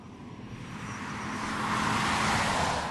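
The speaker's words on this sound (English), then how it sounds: "all the time you've got this really cool little 3-cylinder growl" Ford EcoSport 1.0 GTDI three-cylinder engine growling steadily as the car drives, swelling gradually louder over a few seconds amid broadband road noise, with no voices.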